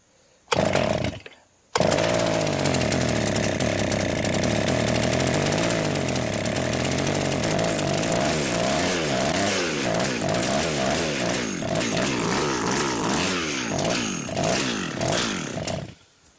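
Engine of an MS 880 clone chainsaw with the high-speed screw a full turn out, starting after a brief cut and then holding a loud, steady high rev that wavers and warbles for about fifteen seconds, no voices over it.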